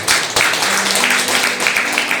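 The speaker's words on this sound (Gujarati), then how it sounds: "તાળી પાડી આપણે." Audience clapping breaks out during a Gujarati church sermon, a broad, continuous burst of hand claps filling the hall for a couple of seconds, loud and dense with a faint low hum underneath.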